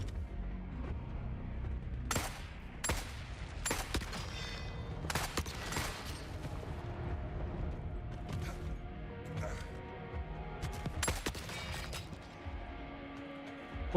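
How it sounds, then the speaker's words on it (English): Sniper gunfire in the video game Forever Winter: scattered sharp cracks, some distant and some nearer, rising from a steady low battlefield rumble at irregular intervals. "I hear snipers."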